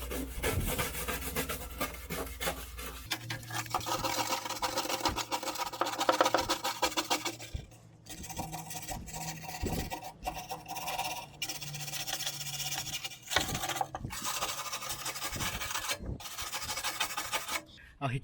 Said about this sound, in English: I'm gonna hit it with a wire brush real quick. Kind of rub it.